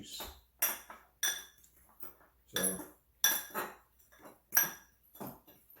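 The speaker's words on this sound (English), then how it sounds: "I'm going to mix this all up." Bun ingredients are mixed in a bowl with a utensil, giving a steady series of close clinking scrapes and taps against the bowl, roughly twice a second, with no talk.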